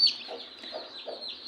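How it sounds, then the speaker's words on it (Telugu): A white hen clucks softly in a farm coop with her young chicks, a few short low clucks repeating at a steady pace over a constant high hiss of background noise. "ఇదిగోండి ఇక్కడ తెల్లకోడి ఉంది చూడండి"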